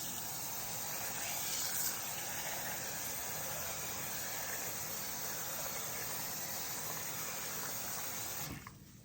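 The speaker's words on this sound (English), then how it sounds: "I'm just going to rinse them off a few times. Just run some water through it." Tap water runs steadily through half a cup of grits being rinsed, a constant close gushing hiss that holds for most of the stretch before cutting off near the end.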